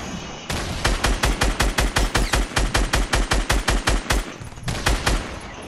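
Rapid automatic gunfire in the video game Fortnite rattles off in a fast, evenly spaced burst of about twenty loud, close shots, pausing briefly before a couple more rounds.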